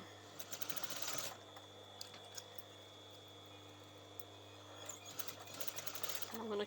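A sewing machine stitches fabric for a top in rapid, whirring bursts, one at the start and another near the end, with quiet pauses between.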